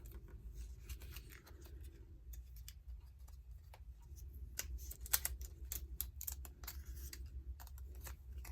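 Quiet, close scratchy rubbing and small ticking scrapes as epoxy is burnished onto an InkJoy pen by hand, coming in irregular short strokes with soft tapping clicks and no talking.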